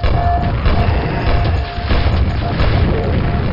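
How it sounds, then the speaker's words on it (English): Grenades explode in the shooter game Quake, a dense run of loud, booming blasts with heavy low-end rumble filling the moment, with a faint voice underneath. "maybe it's best if you're a little cautious, you want to shoot a couple grenades down,"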